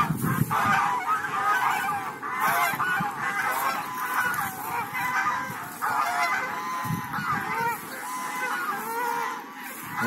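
A flock of geese in central Moscow honking loudly and repeatedly, close by, overlapping calls over a soft outdoor background.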